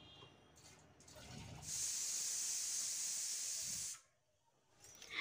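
A pressure cooker holding aubergine and potato lets out a loud, sustained hiss of escaping steam for about two seconds. It then cuts off abruptly into near silence before a soft rustle returns.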